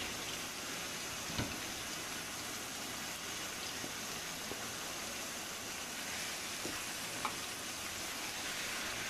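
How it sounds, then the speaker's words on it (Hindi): Chicken fries in a pot with ginger, garlic and chilli paste for biryani, a faint, even sizzle with a few soft knocks of a spoon, quiet and without talk. "तो यहाँ पे मैं ऐड कर दूंगी अदरक, लहसुन और मिर्ची का पेस्ट।"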